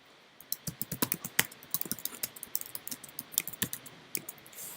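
Rapid, uneven keystrokes clatter on a computer keyboard, close and fairly quiet, with short pauses between bursts of typing.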